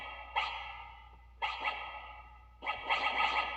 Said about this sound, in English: That's a record swipe.